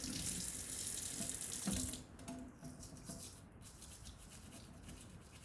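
Water running from a tap into a sink, a steady close rushing stream that eases to a softer, thinner flow partway through, with a brief clatter and no talking.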